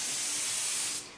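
An airbrush sprays paint onto poster board in one brief, close, steady hiss that fades off at the end.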